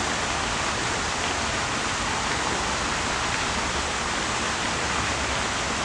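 Steady, dense roar of rushing water from a park waterfall in Grafenwoehr, continuous and loud with no pauses.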